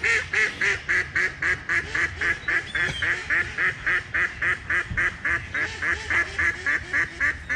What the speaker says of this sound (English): I got a bunch of ducks.